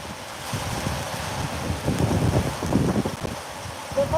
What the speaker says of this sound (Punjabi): ਬਈ ਤੇਜ਼ ਹੋ ਗਈ ਬਾਰਸ਼ ਦੇਖੋ